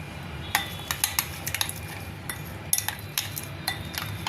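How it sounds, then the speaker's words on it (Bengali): A spoon working garam masala spice paste in a bowl for Bengali chicken butter masala, producing a quick series of sharp metallic clinks and scrapes, close and moderately quiet, with no voices. "এবার এই মশলাটাকে আমি ভালো করে"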